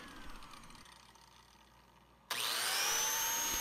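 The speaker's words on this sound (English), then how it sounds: "And I'm going to use a biscuit joiner for that." Biscuit joiner cutting into solid 3/4-inch cherry wood trim: quiet workshop hum, then a sudden loud whining, rasping motor burst starting partway and holding to the end.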